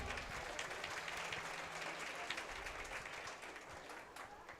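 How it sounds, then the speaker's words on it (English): At a county fair goat show, spectators applaud the young showmanship competitors, a fairly quiet, steady patter of clapping from a crowd that continues evenly, easing slightly toward the end. "let's give these kids a round of applause."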